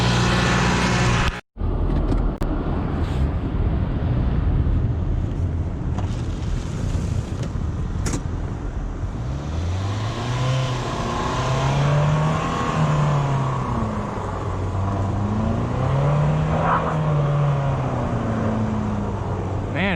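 A Honda Civic stuck on icy snow during a blizzard revs its engine in rising and falling surges, loud and close over steady wind noise, with no talking.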